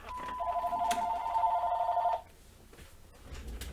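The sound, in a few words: phone ringing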